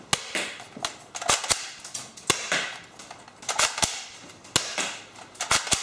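A Cyma HY017C spring-powered BB rifle firing outdoors: a string of sharp, close snaps at irregular intervals, some in quick pairs, each with a brief echo, and no talking.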